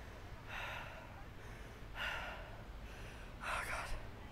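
Heavy breathing follows a hard giant-set leg workout, with three separate loud, gasping exhales spaced a second or so apart over a low background hum, close to the listener.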